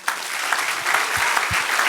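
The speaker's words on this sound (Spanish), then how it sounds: "Denle un aplauso al Señor." A church congregation breaks into brisk, dense applause during a worship service, close and steady, with a few low thumps mixed in.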